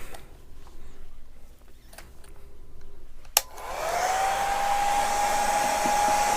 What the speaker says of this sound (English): I'm going to heat set this one real quick